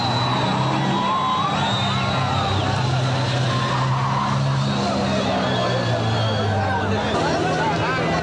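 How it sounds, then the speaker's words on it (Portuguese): A car spinning in place on asphalt squeals its tyres amid revving engine noise and loud crowd chatter throughout. "o peão, quando o carro gira no mesmo lugar"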